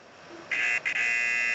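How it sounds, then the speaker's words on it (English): A quiz-show style buzzer pressed by a guest, a loud steady electronic tone that cuts in sharply, breaks briefly, then resumes and holds. "they have to hit the buzzer."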